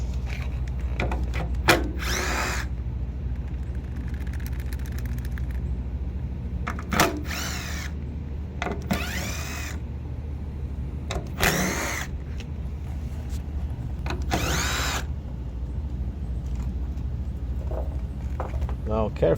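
A power tool whirring in repeated short bursts while removing small 7 or 8 millimeter bolts from a Toyota Sequoia fuel tank, with someone talking between the bursts.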